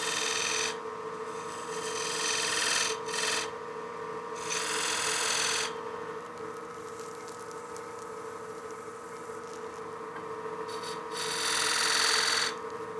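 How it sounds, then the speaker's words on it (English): A skew chisel cuts V grooves into a spinning wet wood bowl blank on a lathe, giving several bursts of rasping, hissing cutting over the machine's steady tonal hum. "Just gonna create some small V grooves with my skew here just to lay this out."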